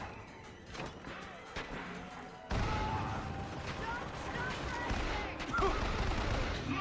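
Bursts of gunfire from the shooter game Bioshock Infinite, scattered shots at first, then a sudden denser barrage with thuds and mechanical clatter, with a voice talking underneath.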